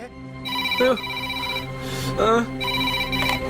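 A telephone rings in repeated electronic trills, loud and near, each burst separated by short pauses, with a low background hum.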